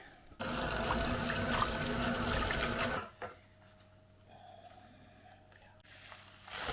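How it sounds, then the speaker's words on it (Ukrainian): Kitchen tap running as fresh green onion and dill are rinsed under it, a loud close gush for about three seconds, then quieter handling and dripping before the flow starts again. "Під краном зараз промию зелень."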